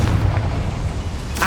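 A loud, dense fiery blast from the Confringo spell in Hogwarts Legacy, a booming roar that fills the whole moment with no talking over it.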